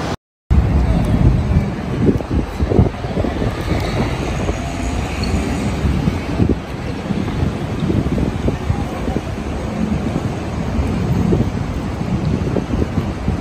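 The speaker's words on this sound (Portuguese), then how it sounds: "Até que tá ventando bastante" Steady wind in Buenos Aires buffeting the microphone, a constant loud rumble with gusty low roar throughout after a brief silent start.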